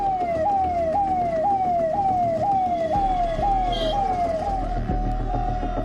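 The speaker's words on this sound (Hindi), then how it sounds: "इस ट्रैफिक जाम में एक एम्बुलेंस भी फंस गई।" An ambulance stuck in a traffic jam wails with a rapidly repeating rising siren, loud and near, over rumbling vehicle engines on a congested road.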